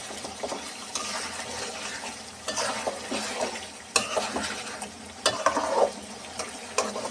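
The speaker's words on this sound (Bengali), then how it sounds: "প্রয়োজন হলে ঢাকনা উঠিয়ে বারবার নেড়ে নেবেন যাতে তলায় না লেগে যায়।" Broiler chicken cooking with spinach and garam masala in a pan is stirred, with irregular scraping strokes and soft clatter over a low, steady simmer, fairly close and without talk.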